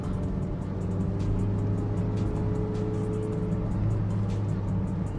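A Mitsubishi Lancer Evo IX wagon drives on the road, its engine hum and road rumble steady and close throughout with no talking.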